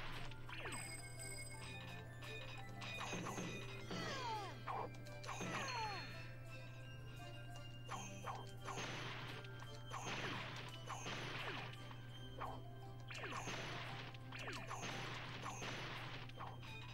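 Water barrels breaking in the Hello Kitty Roller Rescue video game, a series of bright crashing smashes with splashy bursts that repeat every second or two over a steady electronic hum and game music.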